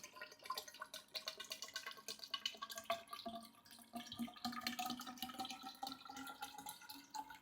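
Water pours and trickles steadily into the water tower of an ozone generator, with dripping and splashing that continues for several seconds, quiet and close, with no voices.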